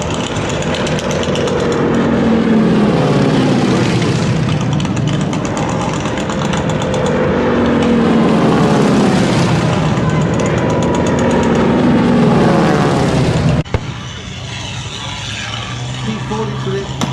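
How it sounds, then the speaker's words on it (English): An L39 jet touches down at the Warbirds over Wanaka 2008 airshow, a loud continuous engine roar with slowly shifting pitch that swells and fades across the runway, ending abruptly, with a commentator talking over it. "L39 touching down to our right hand side."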